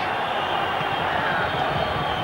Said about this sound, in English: Crowd noise is being turned up.